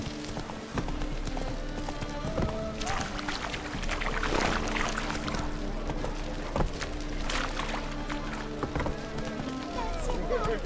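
Roach, a horse in The Witcher 3, gallops with a steady, rapid clip-clop of hooves under a constant low drone and game ambience, fairly close and loud throughout.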